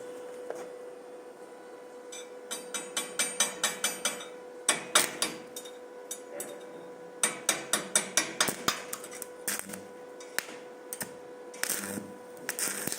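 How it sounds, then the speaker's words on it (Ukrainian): Arc cutting of 6 mm steel with a 3 mm electrode at 130 amps on a Koval MMA-350 welder, heard as bursts of sharp crackling and rapid popping in irregular runs over a steady electrical hum. "Зараз ми будемо пробувати відрізати електродом трійкою метал шістірочку з амперажем 130 ампер."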